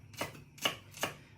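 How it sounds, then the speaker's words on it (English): A knife chops celery and carrot on a board in three quiet, evenly spaced strokes, each a soft crisp thud, with no talking. "I've started chopping that celery"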